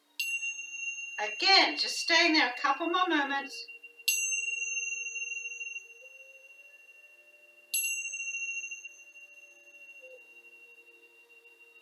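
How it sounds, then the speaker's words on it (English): Yoga bells ring during a Hatha yoga session: a spoken instruction comes first, then two clear, bright bell strikes several seconds apart, each sustaining a pure ringing tone that slowly fades in a quiet room. "And then as I'm ringing the bells"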